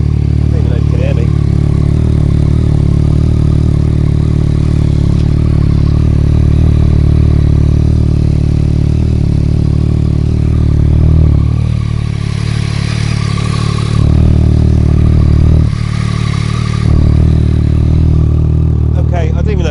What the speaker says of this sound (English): I don't even know if you can hear me above that exhaust